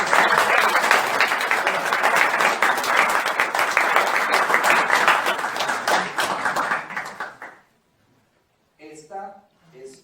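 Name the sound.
applause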